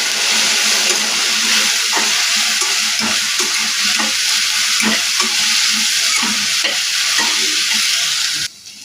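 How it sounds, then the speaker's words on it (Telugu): Okra pieces stir-fry with turmeric in a hot pan, a loud, dense sizzle with a rapid series of spatula scrapes throughout, stopping suddenly near the end. "ఇప్పుడు బెండకాయ ముక్కలు వేసుకోవాలి. ఇవి బాగా కలుపుకోవాలి."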